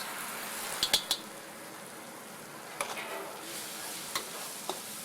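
Red curry paste and shrimp paste frying in a pan over low to moderate heat give a soft, steady sizzle, broken by a few sharp clicks and scrapes of stirring, close and fairly quiet.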